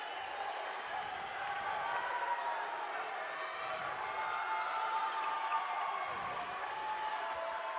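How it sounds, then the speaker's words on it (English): Highland fans at a 2019 high school boys basketball state tournament game cheer in a steady, sustained crowd roar with scattered clapping, loud and continuous throughout. "The Highland fans trying to cheer on this Ram defense"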